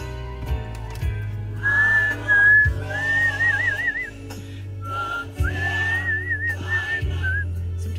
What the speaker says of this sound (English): Sometimes I just have to whistle.